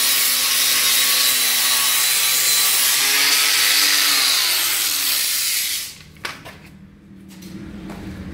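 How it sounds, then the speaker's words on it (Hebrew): Disc polishing machine grinding mosaic stairs, a loud, continuous whining grind with a shifting tone that winds down near the end, followed by quieter scraping and knocks. "והיא חייבת לעבור ליטוש עם דיסק"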